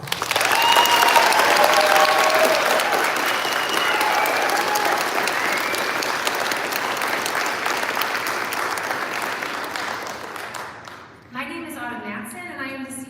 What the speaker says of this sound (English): Please help me celebrate that with a big round of applause.